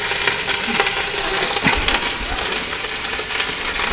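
Pork browning in a pressure cooker pot, a steady bright sizzle with scattered crackles and pops running continuously at close range, with no talking.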